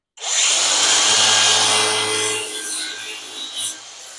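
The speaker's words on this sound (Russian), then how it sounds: "нам нужна будет болгарочка для того, чтобы пилить багет" An angle grinder cuts through a stretch ceiling baguette profile in one loud, continuous burst of about two seconds, then trails off into quieter grinding with a brief flare near the end, with no talking.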